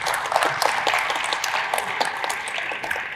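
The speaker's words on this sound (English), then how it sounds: "They all deserve a round of applause for what they've done." Audience applause at a live panel of helicopter maintenance (MRO) mechanics, a steady dense wash of clapping from a crowd filling the room at moderate level throughout.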